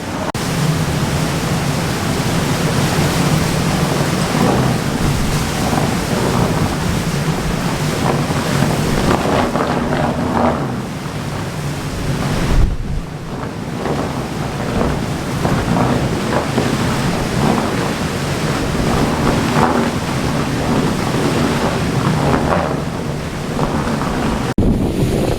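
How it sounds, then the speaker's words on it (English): Strong hurricane wind from Hurricane Ian in southwest Florida roars continuously, a loud, unbroken rush of gusts buffeting the microphone throughout with no talking. "The wind has completely changed directions from earlier today."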